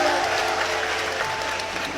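A crowd listening to a speech about a government plan breaks into loud, continuous applause, a thick wash of many hands clapping at a steady level.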